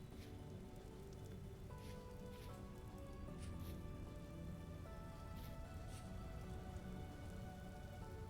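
Rain falls steadily and quietly in the video game Vintage Story, a soft, even patter of drops on surfaces with no voices.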